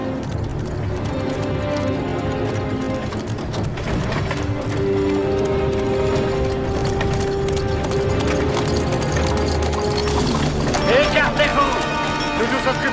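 Horse hooves clip-clop steadily on hard ground under ongoing talk and background music, with a busy, continuous texture.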